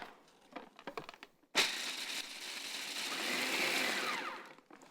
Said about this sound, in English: So now we're going to blend this up until we break down the almonds and cashews